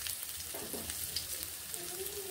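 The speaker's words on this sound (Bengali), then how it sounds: "আদা লঙ্কা জিরেগুলোকে এইভাবে নেড়ে ভেজে নিচ্ছি।" Ginger, chili and cumin stir-fried in a pan for a green pea kachori filling, a constant close sizzle with soft stirring scrapes and faint utensil sounds.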